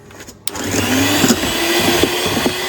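Egg yolks and sugar beaten until pale with what sounds like an electric mixer: a steady, loud motorised whir that starts abruptly after a brief click and runs on without pause.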